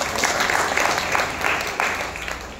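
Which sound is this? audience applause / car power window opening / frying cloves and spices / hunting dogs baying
audience applause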